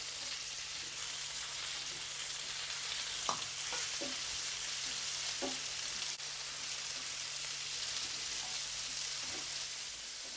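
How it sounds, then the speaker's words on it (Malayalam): Onion and tomato sautéing in a pan for a fish curry, with a steady close sizzle and occasional light scrapes and taps of stirring, no voices. "തക്കാളി ഇത്രയും വഴന്നാൽ മതി."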